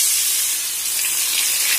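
Turmeric hitting a hot pan of oil while making mango and lemon rice, producing a steady, loud, close sizzle with a continuous bright hiss and no pauses.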